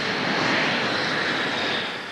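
A Hornet jet on its takeoff run, a steady loud broadband engine roar that stays constant and then eases slightly near the end, with no voices.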